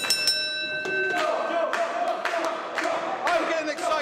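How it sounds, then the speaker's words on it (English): Wrestling ring bell at a live wrestling match, rung several times in quick strikes, ringing tones sustaining over crowd noise and an announcer's voice. "Ring the bell!"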